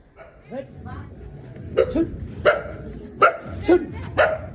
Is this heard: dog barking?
yes